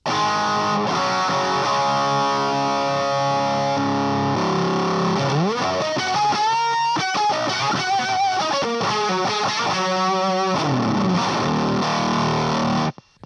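An electric guitar plays through a distorted 'Bloogie Blade' preset on a VANGOA pedalboard: sustained gritty chords, then fast bending runs and riffs, loud and continuous, cutting off abruptly at the end.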